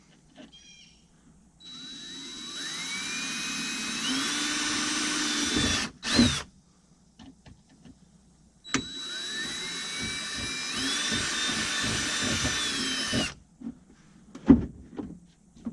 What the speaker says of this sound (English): So I got me a 7/32 bit, and I'm about to just go ahead and drill through them